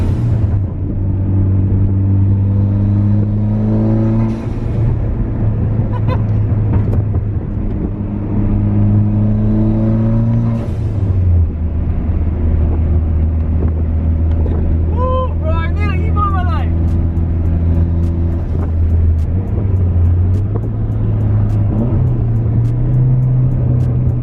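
Nissan 350Z accelerating hard, a loud close engine roar with rising and falling harmonic sweeps through several gear changes, excited voices shouting over it in the cabin.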